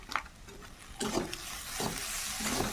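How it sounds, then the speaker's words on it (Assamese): Crushed ginger, garlic and cumin powder fry with soybean chunks and potato in a pan, a soft sizzle broken by a few louder stirring scrapes, fairly quiet and without talk. "এতিয়া গোটেইখিনি মিক্স কৰি ভালকৈ ভাজি ল'ম।"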